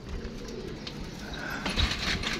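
A pigeon coos amid steady outdoor background noise, faint low calls with a louder rustle near the end.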